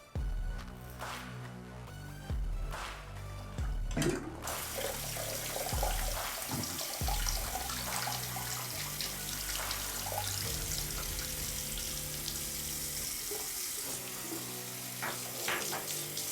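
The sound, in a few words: rinsing under running tap water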